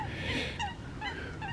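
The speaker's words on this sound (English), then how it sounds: "so we're joined by a load of ducks" A group of ducks by a lake, Astbury Mere, gives several short honking quacks at moderate distance over steady outdoor background noise.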